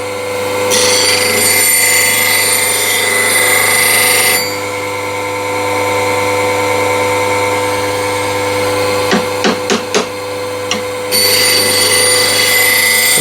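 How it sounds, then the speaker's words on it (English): A power grinder works the bottom bevel of a cabinet scraper held on a tool-rest platform, a steady whine with continuous abrasive grinding that stops midway, then several short contact bursts before the grinding resumes near the end. "grind the bottom bevel. And again, just for the sake of the demo, I'll use a platform"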